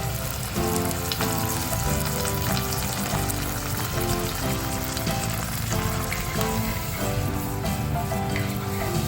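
Prawns sizzle steadily in a hot pan after a splash of Vino Bianco white wine, a continuous close frying hiss mixed with soft tonal background music, no talking.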